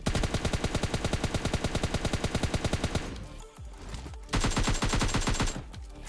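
Rapid automatic gunfire from a battle royale video game as an enemy is knocked down and finished, with loud continuous bursts, a brief lull with scattered shots, then another dense volley.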